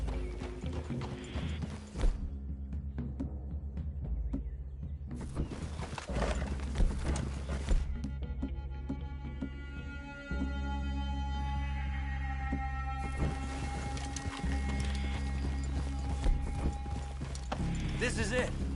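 Several horses ridden in Red Dead Redemption 2, hooves clip-clopping in steady rhythm with occasional snorts and whinnies, tack rattling, and a rider talking over the trotting as the group approaches a cabin through a clearing.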